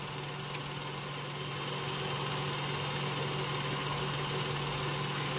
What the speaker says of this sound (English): We're just using the KitchenAid here